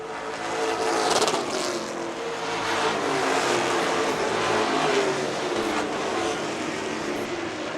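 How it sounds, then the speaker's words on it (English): Stock cars racing around a short track, a continuous loud roar of engines that swells and fades as the pack passes, with no talk over it. "The one car has finally chased down the lead pair, but Josh St. Clair in command still"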